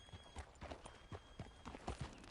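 A horse ridden at a steady pace in Red Dead Redemption 2, its hooves clip-clopping in a regular rhythm, soft and close, with low background ambience.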